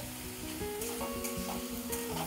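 Chopped tomato and turmeric sizzle steadily in oil in a pan while paneer masala cooks, a close, continuous frying hiss broken by brief stirring scrapes.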